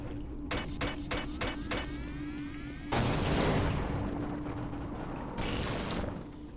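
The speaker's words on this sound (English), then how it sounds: "By just throwing a bunch of grenades into it." Grenades exploding in Half-Life: several quick bright bursts, then a loud broad blast with a long roaring decay, followed by a further burst, all over constant background game noise.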